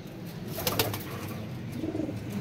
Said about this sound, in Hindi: जी कबूतर शबूतर बाबा जी ने काफ़ी पकड़ाए हैं।